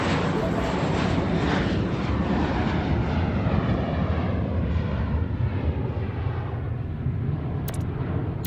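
A jet airliner roars loud and close as it takes off in the Airport Madness video game, the engine rumble slowly fading as it climbs away.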